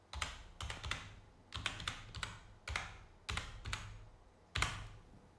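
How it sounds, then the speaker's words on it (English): Keys clatter on a computer keyboard in quick bursts of close clicks with short pauses between them, no talk over it. "So type anything that you want."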